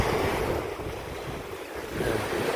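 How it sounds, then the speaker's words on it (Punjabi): Sea waves break steadily on the shore at Dwarka, a continuous broad wash of surf mixed with wind noise on the microphone, with no talk. "ਦੇਖ ਕਿੰਨੇ ਛਾਲਾ ਮਾਰ ਰਿਹਾ ਸਮੁੰਦਰ"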